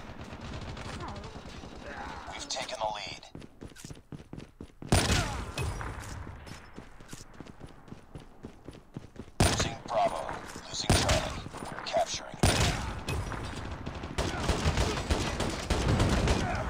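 Call of Duty Mobile match with sniper shots and bursts of gunfire, loud cracks and rapid volleys coming in clusters, some close and sharp, with game sounds and a player's voice mixed in.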